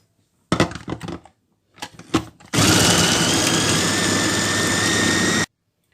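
An electric food chopper blends onion and garlic into a purée, starting with a few short stuttering pulses, then a continuous loud, high whirring motor run of about three seconds that cuts off abruptly.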